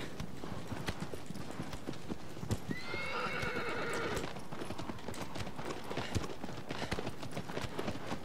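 A horse gallops in the video game Shadow of the Colossus with a steady, dense clip-clop of hooves, and a brief neigh cuts in partway through. The hoofbeats run throughout over constant game ambience.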